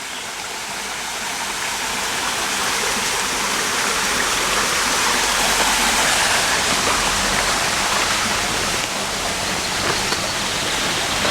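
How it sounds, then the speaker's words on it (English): Warm water wells up from underground in a caldera garden, making a loud, continuous rushing and splashing like a small stream or waterfall. It is close and steady throughout, with no voices. "I believe this to be water pumping up from below ground."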